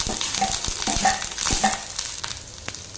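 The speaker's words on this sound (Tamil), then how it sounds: "இப்போ இது வந்து ஒரு ரெண்டு நிமிஷம் நல்லா வதக்கி எடுத்துக்கலாங்க" Chopped carrot and beans are sautéed in a pan: a continuous close sizzle broken by repeated scraping strokes and light taps of a spatula against the pan.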